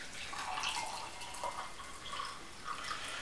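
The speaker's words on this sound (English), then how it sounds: "I'm going to pour this." Lemongrass and ginger white tea poured in a steady stream, with a soft, continuous trickle and a few splashy swells, close by and quiet, with no voices.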